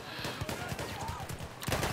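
Rapid gunfire in the Battlefield 1 video game, dense bursts of automatic shots and impacts crackling continuously at close range, loud throughout with a heavier burst near the end.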